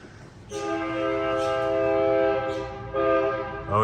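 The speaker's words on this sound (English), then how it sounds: "Well, we got a train coming." A passing train's horn sounds loud and sustained with rich tones, then blasts again after a short pause, over a low rumbling background, heard from a parking garage.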